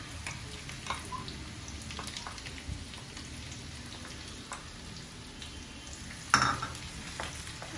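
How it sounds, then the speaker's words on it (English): Onions sizzling in a pan while being stirred, a continuous soft crackling fry with scattered scrapes and one louder clatter of the utensil near the end, close and steady. "So now we'll stir the onions."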